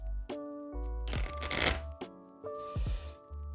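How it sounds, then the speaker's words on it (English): A deck of game cards is shuffled by hand in a few distinct bursts, crisp riffling and flapping close to the microphone separated by brief pauses and soft handling taps. "Give these a quick shuffle to make sure"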